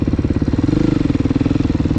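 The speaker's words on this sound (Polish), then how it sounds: "to zobaczy, jak powinien motocykl chodzić" A motorcycle engine runs close by, a loud steady chugging with a fast regular pulse throughout. The bike is suspected of having something wrong with its exhaust.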